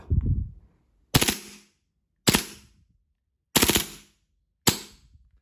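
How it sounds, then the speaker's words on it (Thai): A WE M9A1 BB gun fires on full auto in five short, loud, close bursts, each a rapid rattle of shots, separated by brief pauses of silence. "ต่อมานะครับเป็น ฟูลออโต้นะครับ ก็ปรับโหมดลงมานิดนึงนะครับ แค่นี้นะครับผม โอเคแล้วก็ยิงไป"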